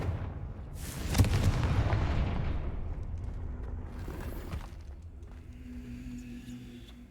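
A Confringo blasting spell goes off in the Hogwarts Legacy video game: a loud, booming explosive burst that rolls into a long rumbling decay with a lingering low drone behind it.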